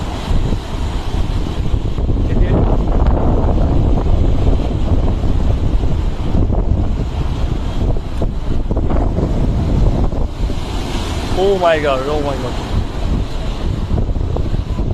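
Storm-tossed waves and strong wind from Cyclone Remal produce a heavy, sustained roar with wind blasts hitting the microphone, and a person exclaims briefly near the end.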